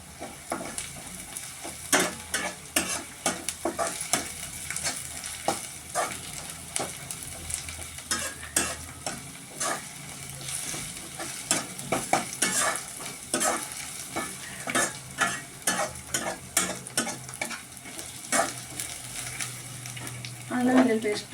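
Onions with ginger-garlic paste fry in a pan for chicken biryani, a steady sizzle broken by frequent scraping stirs of a spoon against the pan, close and continuous throughout.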